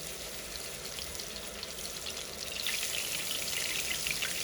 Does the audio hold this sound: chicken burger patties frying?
yes